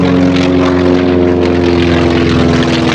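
A T-28 Trojan trainer with a 1,425 horsepower 9-cylinder radial engine flies past at an air show, its loud, steady propeller drone throbbing with harmonic pulses throughout, briefly overlaid by a faint spoken word.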